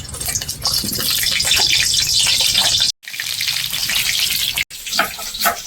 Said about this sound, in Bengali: তেল গরম হয়ে গেছে এবার আমি আলুগুলো দিয়ে দেবো